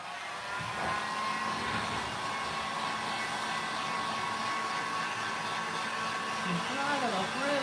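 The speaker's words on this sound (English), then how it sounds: "I'm just going to dry that off very quickly with the heat gun." A heat gun blows steadily and loudly while drying fresh silver patina paint, a continuous airy whoosh with a faint whine, with a few brief voice sounds near the end.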